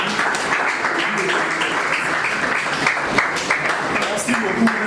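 Steady applause from an audience, continuous clapping throughout with voices mixed in underneath.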